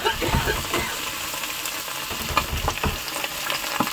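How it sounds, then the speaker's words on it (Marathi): Datal fish frying in oil on a fishing boat makes a loud, steady sizzle that runs throughout, with occasional stirring scrapes and soft bumps on top. "या बाजूला फ्राय करायला सुरुवात आहेत."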